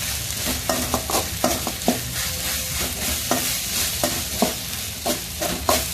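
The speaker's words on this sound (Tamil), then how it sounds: "நல்லா ஃப்ரை ஆகுது நல்லா ஃப்ரை ஆகுது இது ஃப்ரை ஆயிடுச்சுங்க" Onion-tomato masala base for paneer makhani gravy frying in a pan, a steady broadband sizzle broken by regular scraping stirs of the spoon, close and fairly loud, no voices.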